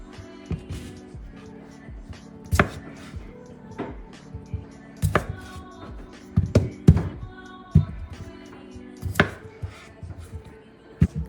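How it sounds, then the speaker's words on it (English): A knife chops potatoes on a cutting board before boiling, giving irregular close, sharp thunks and taps at varying intervals, with faint kitchen background and no talk. "Cutting the potatoes up before I get ready to boil them."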